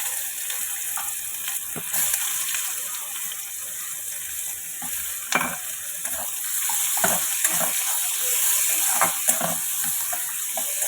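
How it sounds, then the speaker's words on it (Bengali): Sliced onions fry in a pan after dried red chillies, steady bright sizzling hiss with scattered crackles and pops running throughout, close and fairly loud, no talking. "এবারে পেঁয়াজগুলো ভেজে নিচ্ছি"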